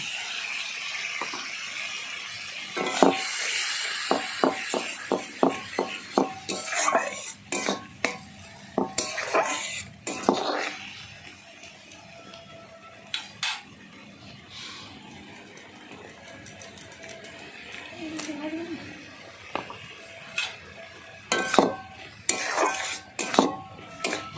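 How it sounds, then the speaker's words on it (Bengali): Ground spice paste frying with pabda fish in a pan while a utensil stirs and scrapes, producing clustered metallic clinks and knocks over a low sizzle, close and intermittent. "ভালো করে একটু নাড়াচাড়া করে দিলাম এবারে কিন্তু বাটা মশলাটা দিয়ে দিলাম"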